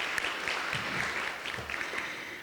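Audience clapping indoors for elected officials at a visual arts community gathering, a fairly faint, steady patter of applause from a modest crowd that tapers slightly at the end.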